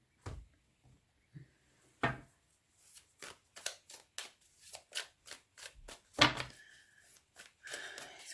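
Tarot cards shuffled by hand for a reading, heard as a run of close, crisp riffling bursts and soft card slaps, alone with no talk.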